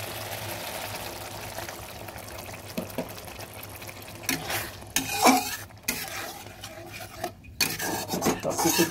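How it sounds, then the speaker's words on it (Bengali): Fish curry of katla with yogurt and cashew paste stirred in a pan, scraping and rubbing strokes over a low simmering sizzle that grow louder and more irregular in the second half, no talking. "সব কিছু দিয়ে ভালোভাবে নেড়ে দিলাম।"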